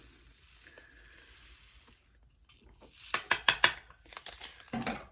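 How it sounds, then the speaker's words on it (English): A dryer sheet is crinkled and stuffed into a small container, giving a close, quiet burst of rustling, crinkling clicks that builds near the end. "Okay, get in there, dryer sheet."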